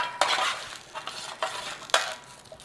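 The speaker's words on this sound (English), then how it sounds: "we got our potatoes out of there, look. Let's just give those a turning over" Roasted potatoes are turned over in a baking tray for a sausage and potato tray bake, with four or five separate scraping, clattering turns over a faint background sizzle, close by and with no talk.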